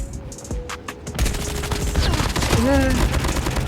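Video game gunfire crackles in bursts through a busy mix, with rapid shots and a rising electronic tone under a constant noisy game backdrop, no clear voices.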